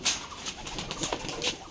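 A black pigeon coos in short, soft throaty bursts close by, repeated a few times over a brief stretch at a pigeon loft, with no talking.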